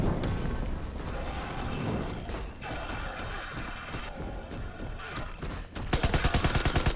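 A grease gun firing in Call of Duty WWII's The Final Reich zombies mode, with steady mechanical clatter and scattered shots giving way at the end to a fast, even automatic burst up close.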